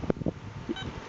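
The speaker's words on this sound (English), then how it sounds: "you get 2 beeps." A Garrett ATX metal detector sounds a short, faint electronic beep during ground balancing, heard near the end of a brief, quiet stretch.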